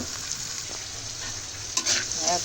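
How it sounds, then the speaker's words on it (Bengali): Food fries in a pan with a steady, close hiss of sizzling oil, and a short stirring scrape and rattle come near the end. "এটা ভেজে নিচ্ছি।"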